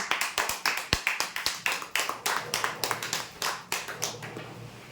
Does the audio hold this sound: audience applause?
yes